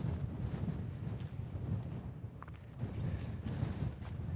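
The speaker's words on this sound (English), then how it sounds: "Every time there's a big windstorm like today" Strong desert windstorm buffeting the microphone, a deep, rumbling roar in uneven gusts that swell and fade, close and continuous with no talking.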